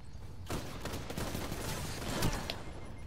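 An auto rifle fires in Destiny 2 in a rapid, sustained burst that starts abruptly and stays loud and dense throughout, close and alone with no talk.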